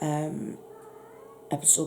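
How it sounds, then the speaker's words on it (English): A pet cat meows close by, with a drawn-out call at the start and two short chirpy meows near the end, while someone talks calmly throughout. "And I do apologise for my cat talking all the way through"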